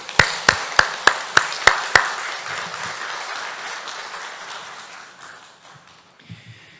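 Applause from a church lecture audience greeting a pastor as he comes forward, opening with a run of sharp, evenly spaced taps before a broad wash of clapping fades gradually.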